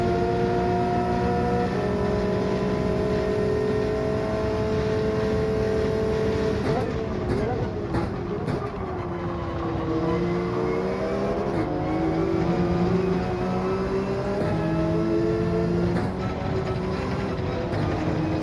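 A Porsche 911 Gr.3 race car engine droning steadily at high revs through the length of a Gran Turismo 7 online race, with pitch rising and dipping through gear changes and corners and a faint voice underneath.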